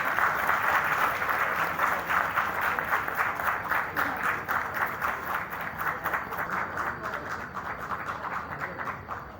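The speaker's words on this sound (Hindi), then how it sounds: "बहुत सारी तालियां आपकी।" A theatre audience at a closing ceremony at an arts council in Karachi claps steadily, a dense, even wash of applause that slowly thins and fades over about nine seconds.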